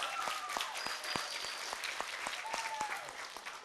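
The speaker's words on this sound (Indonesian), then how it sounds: "Untuk itu tepuk tangan untuk SMK Pratnya Paramita." Audience applause for the vocational school SMK Pratnya Paramita, a moderate crowd clapping steadily with sharp individual claps standing out over the overall patter.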